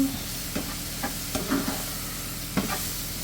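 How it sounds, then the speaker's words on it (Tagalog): A spoon stirs food seasoned with garlic powder, chili flakes and black pepper in a frying pan with salted butter, making a few scraping strokes over a steady close sizzle, with no talking. "Haluin natin."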